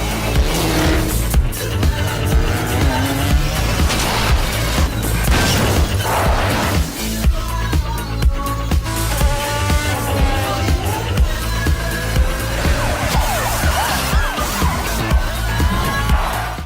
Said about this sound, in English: This online racing game is set in an open world